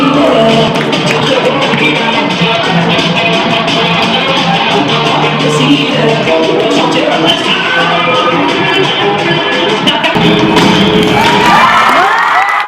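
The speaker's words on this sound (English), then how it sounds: "Round of applause." Audience at an award ceremony applauding and cheering, a loud, dense crowd roar with whoops and shouts that holds steady throughout, with music underneath.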